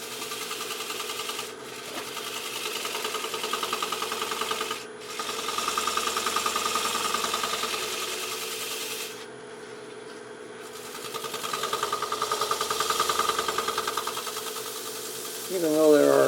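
Sandpaper on an end-grain aromatic cedar bowl spinning on a lathe: a continuous rasping, whirring hum with a few brief breaks as the sanding pauses, fairly close and loud.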